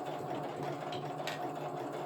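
A sewing machine runs steadily, stitching through a camo pouch being upcycled and guided by feel rather than along a line. The motor hums and needle chatter stays close and continuous throughout, with no talking.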